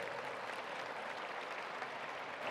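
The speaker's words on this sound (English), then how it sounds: "Please applaud them and all their work." Sustained applause from a gala audience at the American School of Classical Studies' annual event, a dense, steady wash of many hands clapping with no break, filling the room throughout.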